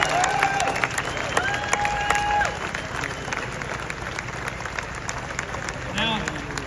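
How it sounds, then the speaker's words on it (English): A crowd at a Sydney protest against abortion breaks into applause, a dense patter of clapping with scattered cheers and voices mixed in, steady across the span with a brief swell near the end. "So give yourself a round of applause."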